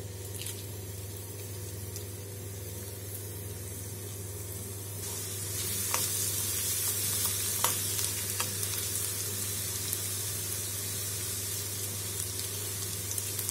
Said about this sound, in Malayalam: ഇതിലേക്ക് ചെറിയ ഉള്ളി ചേർത്ത് കൊടുക്കാം.